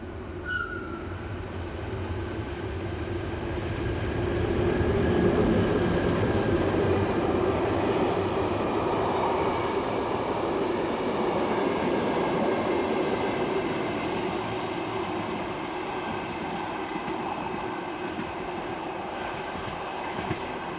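A historic BLS train runs along the Lötschberg south ramp in the Swiss mountains, a steady rolling rumble of wheels on rail with faint clatter and a thin squeal, swelling as it passes and holding on without voices.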